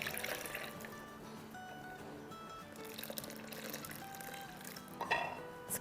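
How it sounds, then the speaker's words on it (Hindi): Water poured from a cup into a cooking pot on the stove, a steady close liquid pour with splashy trickling and a brief louder splash near the end, alone without talk. "अब इसी में डाल देंगे 1 कप पानी ताकि रिंस आउट भी हो जाए।"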